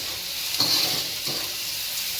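Egg bhurji stirred in a frying pan gives a steady close sizzle, with a couple of soft scraping strokes of the spoon; no talking.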